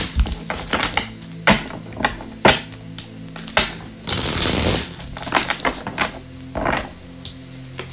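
A deck of tarot cards is shuffled by hand, with soft repeated clicks and riffling taps and one louder, sustained riffle burst midway, close and fairly quiet.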